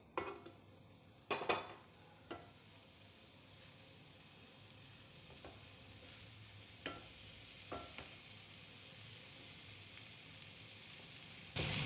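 Egg puff filling is stirred in a pan on a low flame with a soft, steady sizzle, broken by a few scattered scrapes and knocks of the spoon against the pan.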